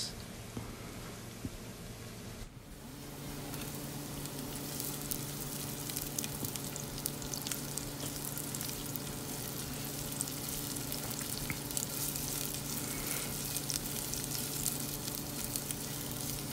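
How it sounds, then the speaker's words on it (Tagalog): Garlic and onion sauté in a pan for a Filipino dish of zucchini with ground pork. After a quieter opening, a loud, dense sizzle settles in and crackles continuously with no voices. "gigisa natin yung ating bawang. Mabango. Ayan, sibuyas."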